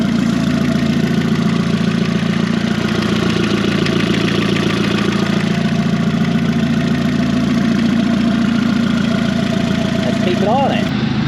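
The 20v turbo engine of a VW Caddy idles steadily, loud and close, with a constant low rumble and fine rhythmic ticking. A voice speaks briefly near the end.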